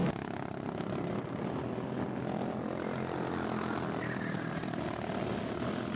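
Endurance karts on a one-mile track pass with a sustained engine drone, a loud continuous buzz holding steady throughout with no voices.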